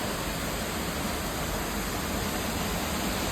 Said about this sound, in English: Another tiny waterfall.